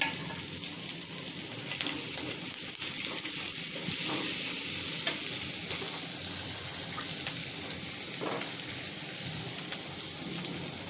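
Fried shrimp sizzles in a pan with garlic-cumin paste, coriander powder and turmeric added for a shrimp and potato curry. A loud, steady sizzle runs throughout, with occasional stirring scrapes close by.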